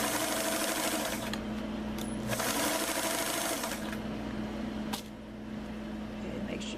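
A sewing machine runs steadily, stitching the crotch seam of doll pants, its motor a continuous close drone with brief pauses and restarts, and no talk over it.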